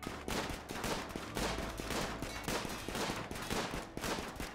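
Explosions and gunfire-like blasts in RimWorld come as a steady series of loud bangs repeating about every half second, dense and continuous throughout.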